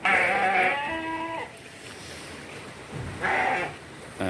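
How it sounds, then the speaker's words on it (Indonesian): A hefty 115 kg sheep, tethered by its owner in a village, gives two loud, close bleats separated by a short pause of quiet background. "Nah, dombanya ditambat di sini, ini akan dimandikan oleh Mas Bayu sebagai pemiliknya"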